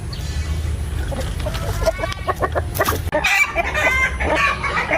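A Light Sussex hen clucks repeatedly, close to the microphone, amid other farmyard chickens, with bursts of louder clucking and a rooster-like call toward the end.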